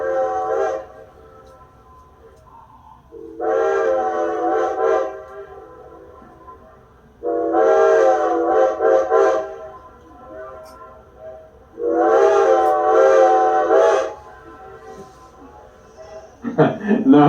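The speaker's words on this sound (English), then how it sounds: "sometimes when we blow our whistle here at Carpenter's Crossing, the ghost of the old LO&S answers back" Steam locomotive whistle at Carpenter's Crossing on the Strasburg Railroad, sounding in three long loud blasts separated by pauses, each with a rich chord of tones, followed by a fainter brief answering whistle.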